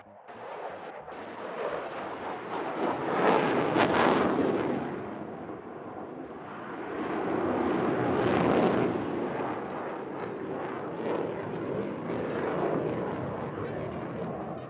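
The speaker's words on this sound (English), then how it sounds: "Captain Smith is now repositioning for his final maneuver, a tactical pitch." An F-16 fighter jet performs a tactical pitch at an air show, a loud swelling roar that rises, fades and returns in broad surging waves over the crowd.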